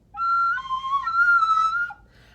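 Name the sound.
recorder squeaking whistle from uncovered finger holes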